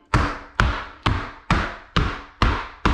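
Tile being patted down by hand onto a red epoxy-coated shower base, seven evenly spaced soft thumps about half a second apart, close and fairly loud, with no talking.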